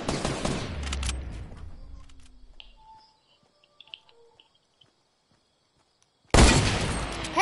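A burst of rapid gunfire in a video game shootout rattles loudly at first and fades into near silence with faint game chirps, then heavy firing abruptly resumes.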